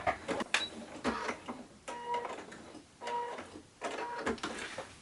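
Sewing machine zigzag-stitches fabric edges for a tote lining in short bursts of rapid mechanical ticking and whirring, pausing briefly between runs, fairly quiet and close.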